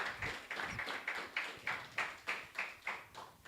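A small audience claps at a seminar as a speaker is introduced, about a dozen distinct, evenly spaced claps sounding thin and fairly faint, as from a few people.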